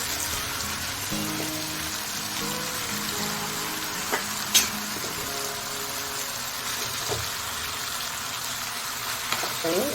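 Chopped ridge gourd sautés in a pan for chutney, a continuous close sizzle with a few sharp clinks and scrapes of stirring and faint murmur underneath.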